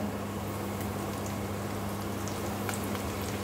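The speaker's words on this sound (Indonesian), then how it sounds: "sekarang aku goreng ikan ya," Constant crackling sizzle of fish frying in oil with scattered pops over a low hum, steady and close, no talking.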